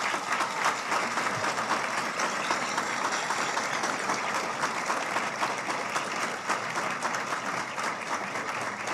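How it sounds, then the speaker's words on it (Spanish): Sustained applause from an audience at a political gathering in El Salvador, a steady dense patter of clapping filling the whole stretch, moderately distant and even in level. "Aplausos, por favor"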